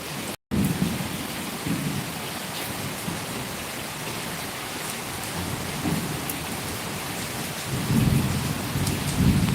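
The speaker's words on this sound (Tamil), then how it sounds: "இருக்க இருக்க மழை அதிகமாக தான் ஆகிட்டே இருக்குது" Heavy rain pours steadily in a dense hiss, with low rumbles swelling now and then; no voices, just the constant downpour.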